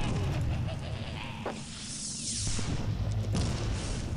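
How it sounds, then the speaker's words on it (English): A fiery shotgun blast in the dark fantasy game Clive Barker's Undying: a loud, dense roaring whoosh with a sweeping burst in the middle and crackling fire, continuous for the whole few seconds, with no talking. "I'm gonna shoot you in the face with my fiery shotgun"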